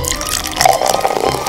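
Water poured onto a large tray while making slime, a steady liquid splash with drips lasting the whole moment, close and moderately loud.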